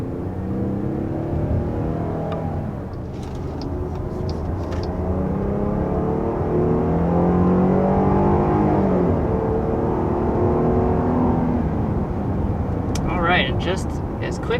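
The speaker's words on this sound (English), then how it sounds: "we are up to 60 miles per hour with this new Grand Cherokee L" A Jeep Grand Cherokee L engine pulls steadily from a standstill to 60 mph, a sustained rising drone heard from inside the cabin that holds loud and even throughout.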